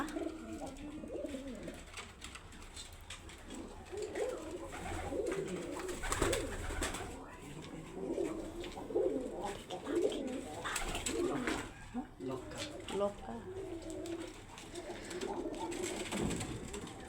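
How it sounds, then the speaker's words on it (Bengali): Sirazi pigeons coo at a pigeon farm, overlapping low throaty coos rising and falling continuously from several birds close by, with steady background noise and no talk. "এখানে যে দুটো বাচ্চা দেখা যাচ্ছে এটা হচ্ছে এই সিরাজি কবুতরের বাচ্চা।"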